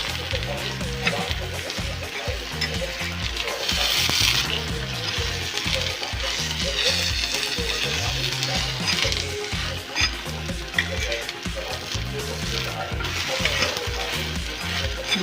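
An aloo gobhi paratha frying in ghee on a hot pan, a loud continuous sizzle with rhythmic scraping and pressing sounds repeating throughout, close and steady.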